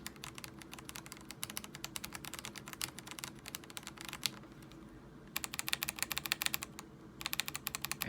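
Rapid typing on Gateron Pro arrow-key switches of a Feker Alice 80 mechanical keyboard, dense clicks in quick bursts with a brief pause in the middle, close and fairly quiet.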